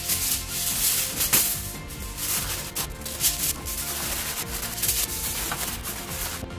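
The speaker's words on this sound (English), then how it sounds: "And now we'll put aluminum foil on top." Aluminum foil being laid over octopus in a baking dish crinkles and rustles in irregular close bursts of crisp scraping and rubbing, with no talk.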